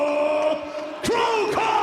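A sold-out arena crowd at the Saitama Super Arena roars during a fight-night entrance, a continuous loud wash of cheering and yelling with shouted voices rising and swelling near the middle.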